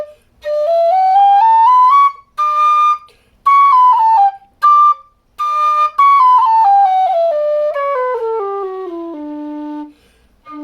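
A Goldie low D whistle plays a solo melody of sustained, breathy notes with short breaks between phrases, gliding downward to a low held tone near the end; loud, close and alone.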